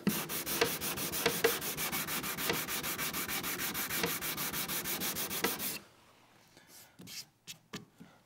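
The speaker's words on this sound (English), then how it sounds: "I have a sanding block with 180 grit sandpaper on it" A sanding block with 180-grit sandpaper rubs back and forth over filled wood in quick, rhythmic rasping strokes, then stops, leaving a few soft scrapes and taps.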